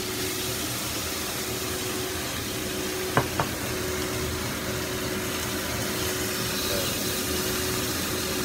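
Boneless chicken thigh fries in a pan with a steady, quiet sizzle and hiss, broken by a couple of short sharp clicks near the middle.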